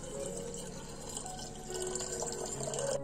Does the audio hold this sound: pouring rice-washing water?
yes